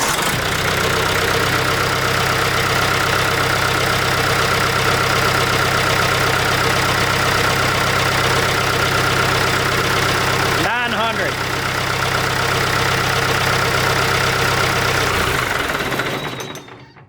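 A Ford 172 diesel engine idles steadily and loudly at close range for about seventeen seconds, its low, even running broken by a brief dip near the middle before it winds down at the end.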